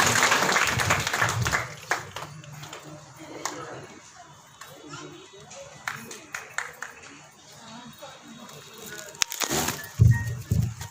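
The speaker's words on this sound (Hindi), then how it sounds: "हम सब जोरदार तालियों से खुशी से मुबारक देते हैं" Applause at an honouring ceremony and birth celebration programme, scattered clapping from a gathered audience that comes in uneven bursts amid room noise and some speech, rising again near the end.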